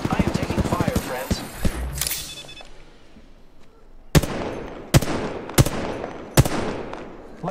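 Gunfire in an Apex Legends match: a busy stretch of mixed game sound, then four sharp, loud shots spaced roughly a second apart, each trailing off into a brief decay.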